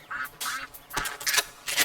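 Duck quacks from a duck hunting video game, several short nasal calls in uneven bursts, clear and fairly close, with no talking over them.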